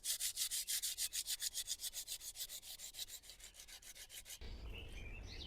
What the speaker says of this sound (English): sand it down with wet. I'm going to start with 220 and move on to 600